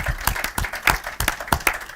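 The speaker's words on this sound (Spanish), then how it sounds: "Apláudanle, por favor, a este autor." A small audience claps for an author at a novel presentation in Madrid. Loud, distinct individual claps sound close by in a quick, uneven rhythm.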